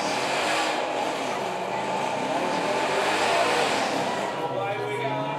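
Lamborghini supercar pulling away hard at a supercar weekend at Beaulieu, a steady loud roar of engine and tyre noise with a rising engine note near the end, voices talking over it.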